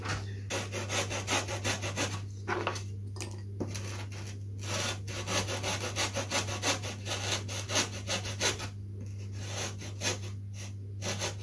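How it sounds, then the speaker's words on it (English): Hand saw cutting a slot into wood for a banded-on model flyer wing, steady back-and-forth rasping strokes, close and continuous with brief pauses, over a constant low hum. "I've got to cut a slot all the way down there"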